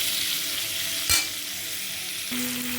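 Potatoes frying with onions and green chillies in a pan, a steady close sizzle with a brief scrape of stirring partway through, no voices.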